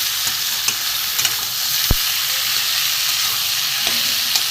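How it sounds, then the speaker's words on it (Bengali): Steady close sizzle of mixed vegetables frying in a pan, with a few soft stirring clicks and one sharp utensil tap over the continuous hiss. "আমার মোটামুটি সবজি ভাজা হয়ে গেছে।"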